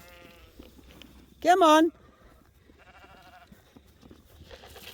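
A ram of about 100 kilos on a New Zealand shedding-sheep farm gives one loud, wavering bleat close by, amid quiet outdoor background, with someone speaking briefly.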